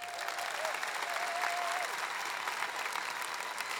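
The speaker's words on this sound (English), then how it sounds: "One more round of applause for them." An audience at the 2023 Tamworth Golden Guitars country music awards ceremony claps loudly and steadily throughout, a thick, sustained wash of applause with a faint thin tone briefly audible beneath it.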